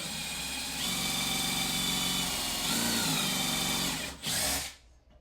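A power drill drives heated screws during pantry construction work, whining steadily and loudly at close range for several seconds. The pitch shifts as the load changes, and the drill cuts off abruptly at the end.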